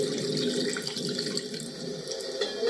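Reserved boiling water from cooking mutton is poured into a cooking pot for a cauliflower and mutton curry, making a steady, continuous close-up splashing pour with no talking.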